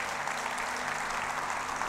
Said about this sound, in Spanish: Y creo que se merecen un fuerte aplauso por esa determinación.